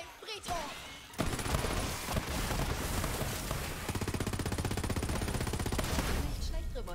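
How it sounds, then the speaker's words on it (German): Gunfire in the video game Borderlands 3: after a moment of game noise, a long sustained burst of rapid automatic shots rattles on for several seconds, loud and continuous. "wenn ich dem gegen seinen Kopf schieße, wenn das immer die Schüsse reflektiert"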